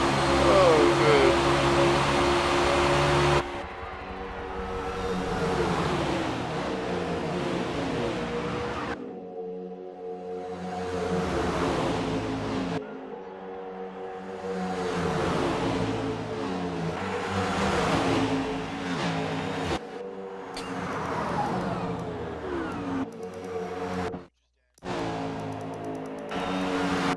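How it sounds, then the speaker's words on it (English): NASCAR sim racing game cars roar past at Sunset Peninsula Raceway, engine drones rising and cutting off in several loud passes with brief gaps between them. "At the front, it's side by side with Bobberts and Shadow."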